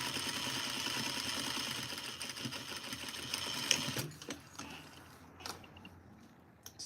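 Sewing machine stay-stitching the neck edge of a knit duster, a steady fast mechanical whirr for about four seconds, then stopping and restarting in short bursts as the fabric is handled.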